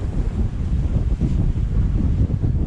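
Strong wind buffets a sailing boat at sea on a passage, a steady loud rumbling gust with waves and no voices.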